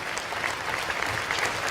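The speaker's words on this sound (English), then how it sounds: "Big round of applause for Ivan Bjorkley Nordstrom, and also the medical team" A crowd at an ice hockey arena during a Sheffield Steelers game applauds in a dense, steady wash of clapping for a player after a heavy fall. The clapping is continuous and fairly loud throughout the short stretch.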